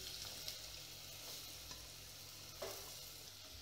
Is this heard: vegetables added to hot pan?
yes